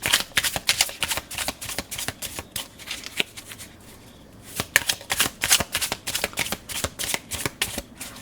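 Tarot cards are shuffled in a quick, crisp riffle of repeated flutters, pausing briefly in the middle before resuming at a steady pace, close and alone.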